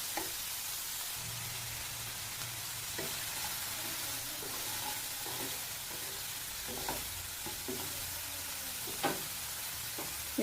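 Peas and grated carrot stir-fried in a pan for veg momo filling, a steady soft sizzle with scattered scraping stirs and light clinks, no voices.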